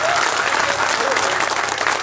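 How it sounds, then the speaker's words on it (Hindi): Loud, dense clapping from the audience at an All India Mushaira poetry gathering in Bihar, a short burst of sustained applause that fills the whole moment. "अगर ताली बजा सकते हो एक बार 2000 ताली बजा के मुझे बताएं।"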